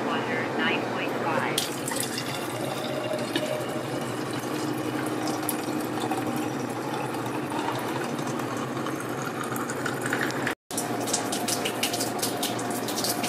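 A Kangen water machine runs continuous gushing water with hydrogen bubbles after deep cleaning, a steady close splashing flow that stops for a split second near the end, then resumes.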